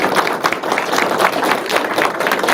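Sustained applause from an audience at a school district board meeting honoring a student who won the county spelling bee; dense, even clapping from many hands throughout with no voices over it.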